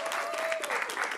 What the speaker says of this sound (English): Please give an applause for Claudia.